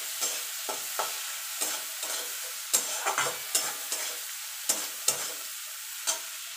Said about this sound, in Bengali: এবার এটা হালকা করে একটু ভেজে নেব।